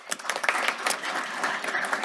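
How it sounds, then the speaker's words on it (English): Applause at a city council meeting, a room of people clapping fairly faintly and steadily for a couple of seconds. "I want you all to give him a round of applause"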